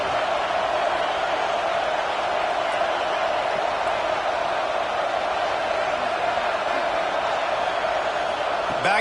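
A football stadium crowd roars steadily for the defense on a big third down, a dense, loud, unbroken wall of cheering heard from within the stands.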